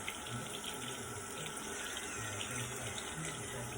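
Tap water running steadily into a sink during face washing, a constant soft hiss and splash heard alone at low level.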